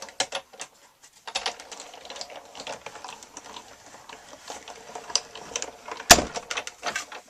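Embossing folder cranked through a die-cutting machine gives a run of close, light clicking and ratcheting, with a single loud clunk near the end.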